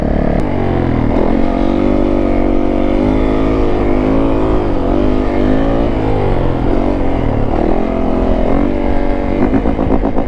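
Yamaha YZ450F dirt bike engine roaring loud and close at high speed on a top speed run, a steady sustained howl with pitch rising and dipping through the gears and no talk over it.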